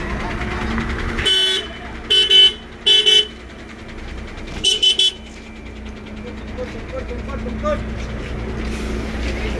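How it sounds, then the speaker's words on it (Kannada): BMTC city buses at the busy Majestic bus station in Bengaluru, with several short loud horn blasts in quick bursts over a steady rumble of idling engines and traffic. "ಇಲ್ಲಿ ನೋಡು, ಮೆಜೆಸ್ಟಿಕ್ನಲ್ಲಿ BMTC ಗಾಡಿಗಳು ನೋಡಿ."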